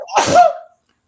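A single loud, close sneeze, a sharp burst that trails off quickly, followed by silence.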